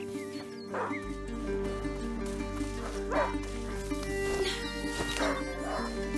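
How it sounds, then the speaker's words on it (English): Leon, a hunting dog in the video game A Plague Tale: Innocence, barks several times in separate, spaced bursts over a steady droning game soundtrack, with a voice talking in places. "Leon, a hunting dog is not supposed to lose its hunter"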